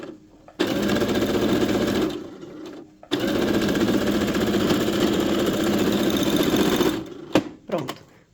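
A sewing machine stitches the gathered ruffle of a small pet dress, running in close, steady bursts with a short pause midway and a few brief knocks and clicks at the end.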